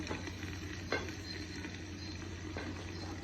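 A mixed vegetable dish with potatoes, cooked on a traditional haara hearth, sizzles steadily in a pan. Faint scraping stir strokes come through now and then, with no talking.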